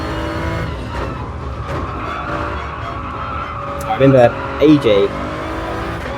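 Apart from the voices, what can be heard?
race car cornering through Graham Hill Bend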